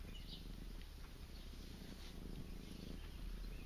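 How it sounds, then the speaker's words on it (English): A house cat purrs loudly and continuously right up close, a soft rumbling drone with no speech over it. "Such loud purr."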